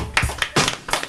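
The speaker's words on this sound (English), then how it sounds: "we need a round of applause for that one" A live radio studio crowd gives a brief burst of clapping, several uneven rounds of hand claps rising and fading over about a second, close and moderately loud.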